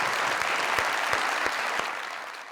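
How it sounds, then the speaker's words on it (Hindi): A studio audience applauds a gift-hamper winner on a talk show, a loud, dense burst of clapping with a few sharper claps standing out, gradually tapering toward the end. "इनके लिए बहुत सारी तालियां।"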